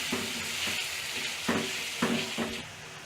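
Spices being stirred into a frying egg kuruma mixture in a pan, a steady close sizzle with four distinct scraping stirs that rise and fall over about three seconds, no voices.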